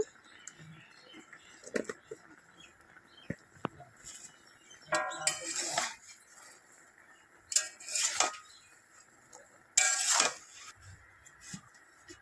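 Intermittent metallic scrapes and clinks of a spoon stirring taro greens in a cooking pot, several short bursts separated by quiet pauses.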